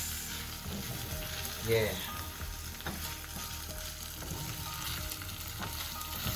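Pork pieces frying in oil for a Kenyan wet fry, a steady broadband sizzle running throughout with one brief louder stir or clatter midway; a short word is spoken once.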